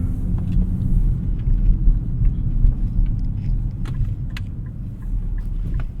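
A 2024 Nissan Z Nismo with an automatic transmission driving on a road at sunset, heard from inside: a steady, loud low engine and road rumble throughout, with no talk.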